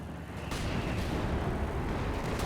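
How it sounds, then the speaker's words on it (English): Anti-tank gun firing in the World War II strategy game Company of Heroes 2, heard as a dense, continuous barrage of loud booms and battle noise, with a sharp blast near the start and no speech. "so the AT gun can just keep firing at will"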